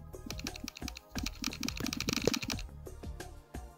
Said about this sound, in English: I've also changed the sound of the keys, so when I tap a key, it makes this sound